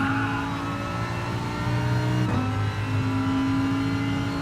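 Race car engine in Gran Turismo Sport, a steady loud droning whine held at high revs, with a brief dip and shift in pitch midway as the car brakes for a corner.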